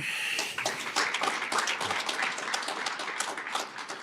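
An audience at a live organizing event applauds, brisk clapping from a crowd that stays fairly even for a few seconds, moderately loud.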